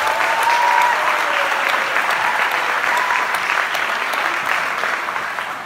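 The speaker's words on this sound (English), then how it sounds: "let's give them another big round of applause" A crowd applauds loudly and steadily at a basketball court unveiling ceremony, a dense wash of clapping that tapers slightly at the end.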